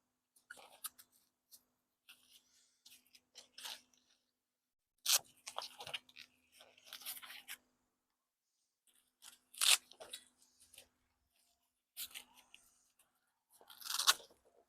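Velcro straps on a dunk tank bag are ripped and pressed into place in several separate bursts of crisp tearing and crunching, close and fairly quiet, with pauses between them and no talk.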